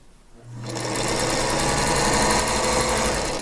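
A sewing machine stitches quilt pieces together, starting after a brief quiet moment and then running in one steady, loud, close whir to the end.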